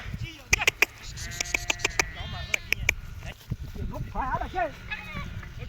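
Several goats bleat nearby in short wavering calls while grazing a wheat field, with a person talking over and between them.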